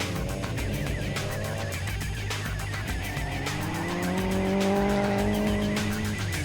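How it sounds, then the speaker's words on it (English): Carbon-fibre RSR Honda S2000 Turbo drift car competing in the 2005 Formula D Championship, its engine droning loud and steady with rising revs and tyre squeal, no talking. "Another car in the 2005 Formula D Championship is Alex Pfeiffer's all-carbon fibre RSR Honda S2000 Turbo"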